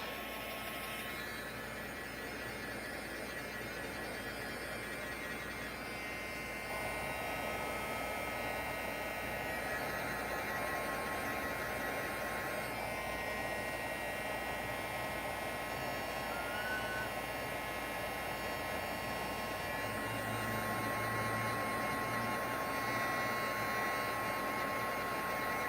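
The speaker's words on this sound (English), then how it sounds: "All right, so I'm going to use the heat gun." A heat gun blows steadily in a quiet room, a faint continuous airy whir with low hum that shifts slightly in pitch and intensity, running alone without talk.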